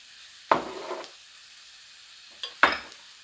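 Vegetable curry sizzling in a frying pan as it is stirred, with two distinct scraping stirs separated by a quieter gap of steady frying hiss, close and fairly loud, no talking.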